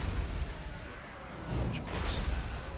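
Artillery and gunfire from units firing and landing hits in the fantasy strategy game Total War: Warhammer II, with orc infantry targeted and dwarf crossbowmen in play; low rumbling booms and bursts run throughout, swelling louder midway, with no talk.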